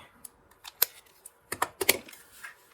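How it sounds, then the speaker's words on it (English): A glue tape applicator is pressed and rolled along a paper envelope, making close, sharp clicks and brief crackly ratchets in short irregular bursts, with a quiet pause between them and no talking. "I'm going to use that glue tape"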